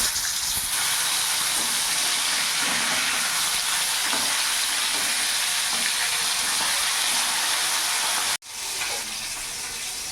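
Pieces of rohu fish frying in a pan of hot oil give a loud, dense, continuous sizzle close by, with a brief sharp knock near the end and then the hiss resuming.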